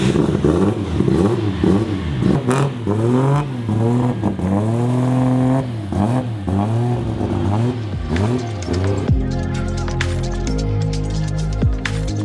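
A Nissan Silvia S15 drift car engine on a dyno revs hard and loud, climbing and dropping in repeated sweeping pulls, then settles into a steady high drone with crackle, close up and alone.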